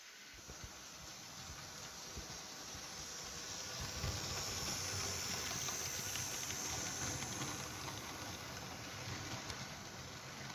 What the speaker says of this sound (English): This train is still going.